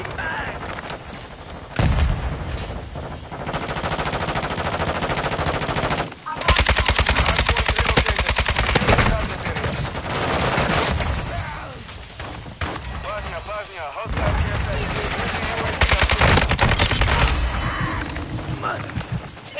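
Heavy machine gun fire in a military shooter video game, long loud automatic bursts broken by short pauses, with shouted voices and game sounds mixed in.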